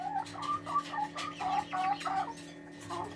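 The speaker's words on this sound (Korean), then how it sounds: "6일 5일 된 병아리들이에요" Newly hatched Black Brahma, Serama and Silkie chicks, five to six days old in a brooder, give a steady run of small bright peeps. The calls are close and overlapping and carry on without pause under a faint hum.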